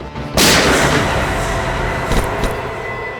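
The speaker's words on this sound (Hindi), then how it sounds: "गोली चली क्या बस?" A single loud, sharp blast bursts out, followed by a sustained noisy rumble with a couple of smaller cracks later on.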